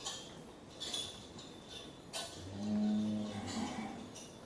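A cow on a farm gives a long, low moo in the middle, with faint background noise and a few light clinks around it.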